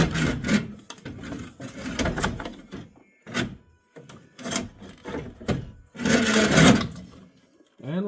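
A rigid power steering line is worked loose and wiggled out of a 2004 Subaru WRX wagon engine bay, producing a series of close rubbing, scraping and clunking bursts in irregular rhythm with short pauses between.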